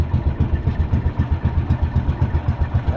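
A brand-new Cummins six-cylinder turbo boat engine runs during a sea trial, its steady, rapid throbbing pulse heard up close and fairly loud, with no talk.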